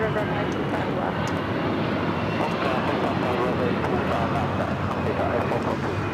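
A United Airlines Boeing 757-200 taking off at LAX, its engines a continuous broadband roar that holds steady and loud throughout.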